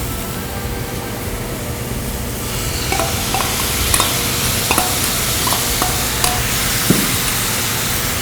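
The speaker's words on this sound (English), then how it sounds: "that's when we just start stir frying everything together" Glass noodles and vegetables for japchae sizzle and stir-fry in a hot pan with sauce, with a steady loud crackle and occasional scraping clinks of a utensil.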